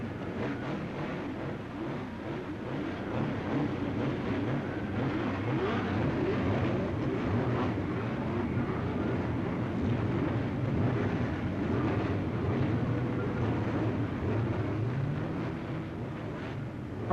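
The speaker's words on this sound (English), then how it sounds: "Frantic efforts by Billy Foster's crew finally get his car started." Racing engines at the 1965 Indianapolis 500 starting line, including Billy Foster's car, make a steady loud rumbling drone that swells slightly, with a huge crowd of over 250,000 blended underneath.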